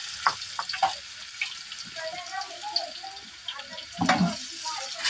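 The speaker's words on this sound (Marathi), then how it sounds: "लसूण चांगली चेचून घ्यायची आणि ती तेलामध्ये टाकायची" Crushed garlic sizzles in hot oil for a village-style dried fish curry. A soft, steady frying hiss runs throughout, with light scraping and clinks of a utensil and a brief louder burst near the end.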